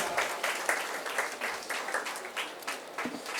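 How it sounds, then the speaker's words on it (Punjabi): Applause from an audience at a ceremony honouring guests on stage, a moderate patter of many hands clapping, somewhat distant and fairly faint, lasting a few seconds. "ਜ਼ੋਰਦਾਰ ਤਾੜੀਆਂ ਦੇ ਨਾਲ ਇਸ ਰਸਮ ਦਾ ਸਵਾਗਤ।"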